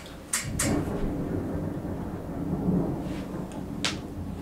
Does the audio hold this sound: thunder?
yes